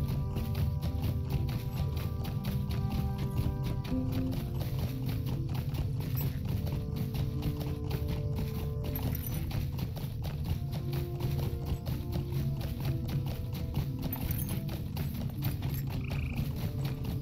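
A horse gallops in a Lord of the Rings video game, its hooves beating a steady, continuous clip-clop over game music for the whole stretch.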